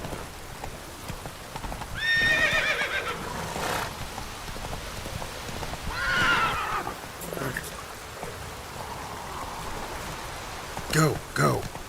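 In The Witcher 3, a horse whinnies loudly twice and its hooves clip-clop at a gallop over steady rain, with someone speaking over the scene.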